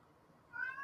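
A house cat gives a short, faint meow that rises briefly out of quiet room background near the end.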